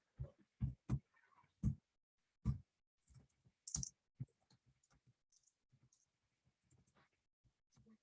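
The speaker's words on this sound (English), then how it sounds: "I'll type it here." Keys on a computer keyboard are tapped in a close, dry series of clicks, louder and spaced at first, then settling into quicker, fainter typing.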